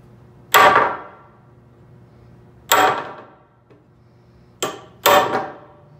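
Hammer blows striking a cold chisel to cut metal, four sharp ringing metallic strikes spaced irregularly, the last two close together, each decaying quickly into a quiet room.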